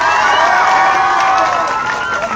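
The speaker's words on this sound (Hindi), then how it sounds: "ताली बजाओ जोर से आपकी कृपा है।" Loud, dense crowd noise fills a gathering at a village yagya in Kotkhawda, Rajasthan, with cheering voices and possible clapping rising together in a steady, close roar that never drops out.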